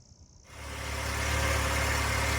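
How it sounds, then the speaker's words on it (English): A Nissan Kicks engine idles steadily after a CVT transmission fluid service, a low constant hum that starts abruptly and holds at an even, close level with no voices. "Alright, so we got the car running."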